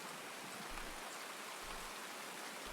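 Rain in the Escape from Tarkov Woods map falls as a steady, even hiss, soft and constant with no voices.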